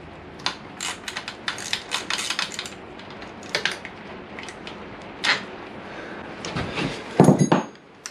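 A small brake line bolt on a Honda VFR800 is undone in bursts of close metallic clinks and ratchet-like ticks from the tool, uneven and sharp, with a louder clatter toward the end.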